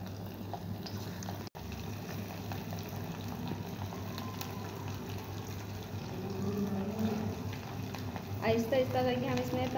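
Marinated chicken fries in hot oil with a steady bubbling sizzle that grows fuller and louder toward the end, while a voice talks over it.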